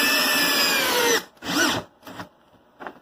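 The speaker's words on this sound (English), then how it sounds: "There's the Bosch. Same thing. Full bat. Speed 2, 3-inch construction screw," A Bosch 12V drill on full battery at speed 2 drives a 3-inch Torx construction screw into wood, a steady loud motor whine that cuts off, then several short bursts and a faint final blip.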